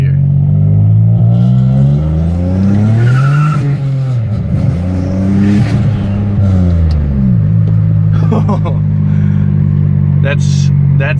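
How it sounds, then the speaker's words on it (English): A turbo Nissan Maxima revs hard and accelerates, its loud engine rising and falling as the tires break loose in first gear with squealing, heard up close and continuous. "it can break loose tires in first gear"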